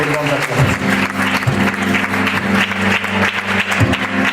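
A church congregation claps and cheers loudly, with sustained applause and raised voices blending together in a reverberant hall.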